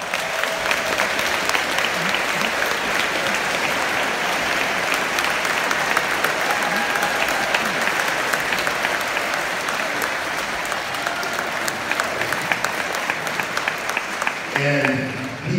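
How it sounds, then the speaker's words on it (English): Sustained applause from a large crowd at a July 4th concert after a performance of The Washington Post March, steady and full throughout, with a few louder claps standing out near the end. "Let's give him a big round of applause."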